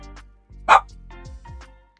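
A pet dog named Fitz barking indoors while waiting for a favorite treat: a few short close yips and barks over about two seconds, one sharp louder bark standing out.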